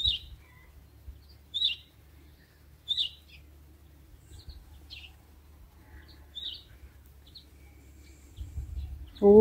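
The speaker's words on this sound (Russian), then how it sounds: "Сидит и чирикает." A small bird chirps from a willow tree outdoors: short, high chirps repeat at fairly even intervals, moderately faint and distant over a low background rumble, with a brief louder sound at the very end.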